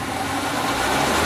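A 1994 Suzuki Realvan engine held at high revs, a dense, steady roar that swells slightly as the throttle holds, loud and close.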